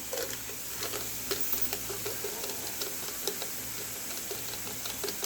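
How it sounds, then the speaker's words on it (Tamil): Steady sizzling of vegetables with turmeric frying on a hot dosa griddle (tawa), with occasional light stirring and scraping ticks, no voices. "இதெல்லாம் நீங்கள் தோசைக்கல்லிலே தான் வதக்கணும்"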